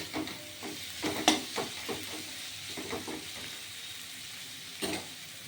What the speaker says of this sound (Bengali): এটা ভাজা ভাজা হবে